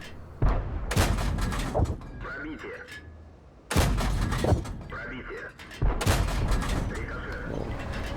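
Tank cannon fire in a World of Tanks style battle game, three heavy booming shots spaced a few seconds apart, each followed by a rumbling decay, with someone talking over them.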